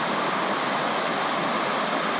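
A waterfall among fall-colored foliage roars as a constant, full rushing wash of water, close and loud, with no voices.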